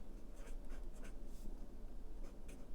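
The thick tip of an Erin Condren dual tip marker scratches and squeaks on planner paper in short, uneven strokes, close and soft, with no voices.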